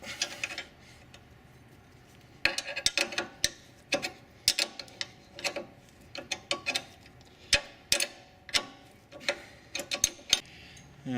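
Torque wrench ratcheting on the nuts of a Land Rover LR4 front sway bar link, sharp irregular clicks in short bursts against a quiet background.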